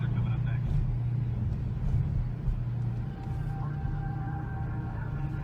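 A car drives along a street, its engine and tyre noise a steady low rumble from inside or close by, with a faint passing hum toward the end.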